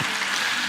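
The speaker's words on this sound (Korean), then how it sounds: "다 같이 박수로 환영하겠습니다" A short burst of applause from a church congregation welcoming a newcomer, a brief wash of many hands clapping together.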